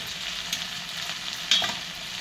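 Peanuts frying in a pan for a dondakaya (ivy gourd) pachadi, giving a steady close sizzle with light stirring scrapes and a small sharp crackle near the end, with no talking.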